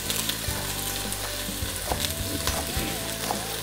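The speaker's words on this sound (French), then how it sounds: "les oignons reviennent" Onions gently sautéing in a pan, producing a continuous even sizzle at moderate volume with occasional faint stirring clicks and no voices.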